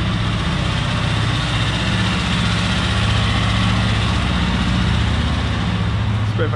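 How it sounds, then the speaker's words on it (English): A tractor drives down a road, its low, steady engine drone running constantly and fairly loud throughout, with no voices. "Someone randomly just driving their tractor down the road."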